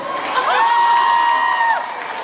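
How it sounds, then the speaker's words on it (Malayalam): An audience at a film trailer launch with Manju Warrier responds with crowd noise and whoops, loud and close, a rising tonal cry over a dense general roar lasting the whole moment. "നല്ല കൈയടി കൊടുത്തേ"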